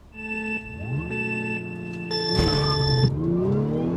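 A high-mileage Audi launches hard, its engine revving up through rising tonal sweeps with a brief gear-change dip and sharp bursts of tire noise. Loud and close, with no talk.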